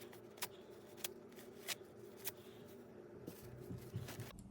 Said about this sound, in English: I'm basically going to rip it up and put it into the slime